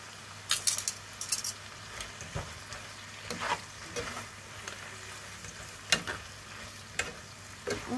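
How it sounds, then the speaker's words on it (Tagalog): Spatula scraping and stirring beef and mushrooms sautéing in a pan with instant Chinese seasoning, steady sizzle underneath with irregular metallic clinks and scrapes, close and fairly quiet, no talking. "haluin natin siya"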